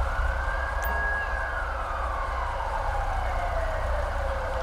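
Police car siren in GTA V with the LSPDFR mod, a loud wailing tone sweeping slowly up and then gliding down over a steady low engine rumble, continuous without any talk.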